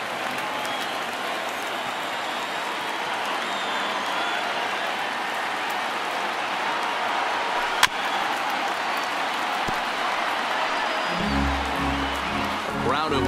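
Baseball stadium crowd in MLB The Show 19 cheering and clapping in a broad, continuous roar that holds steady and loud, with a brief sharp crack partway through and low thumping near the end.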